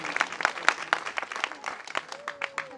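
Scattered, fairly close handclaps from a small church gathering, sharp individual claps at an uneven pace, thinning out toward the end as a faint tone hums in the background.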